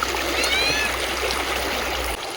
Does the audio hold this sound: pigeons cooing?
no